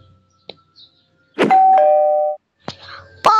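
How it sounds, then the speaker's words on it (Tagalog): A house doorbell sounds a clear two-tone chime, the first note ringing out and sustaining before a second tone, followed by a short bell-like hit and brief noises afterward. "Ito, may doorbell pa sila."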